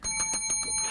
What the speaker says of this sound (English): Take that bell away from you, Michael.